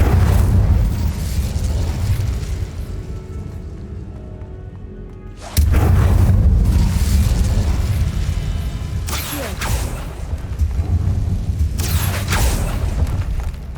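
Fiery spell blasts from Hogwarts Legacy on PS5: loud booming bursts and roaring whooshes over a dense game soundscape, with a big impact at the midpoint followed by sustained rumbling blasts.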